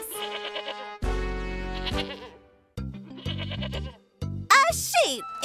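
A sheep in an animated fairytale bleats in several loud, wavering cries, separated by short gaps.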